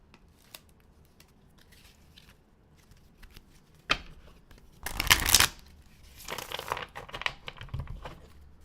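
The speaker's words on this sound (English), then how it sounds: "I love the sound of shuffling cards" Tarot cards are shuffled close by in a few quick riffling bursts, with crisp rustles and soft snaps of card stock between quieter pauses.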